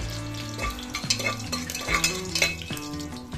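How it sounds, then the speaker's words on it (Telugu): Fenugreek seeds and dried red chilli pieces frying in hot oil, with steady sizzling and stirring and a few scrapes of the pan, close and alone with no talk, under a low background tone. "మెంతులు కొంచెం ఎర్రగా దాకా వేయించుకోవాలి అలాగే ఎండుమిర్చి ఎండుమిర్చి ముక్కలు వేసేసుకున్నాము"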